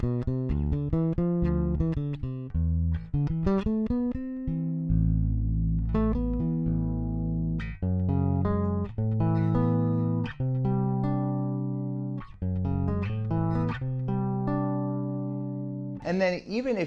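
Upright-style bass, the Dan Lutz SB-1, played melodically across its range with sustained, smooth low notes and quicker runs higher up, close and clear, with a brief other sound at the very end.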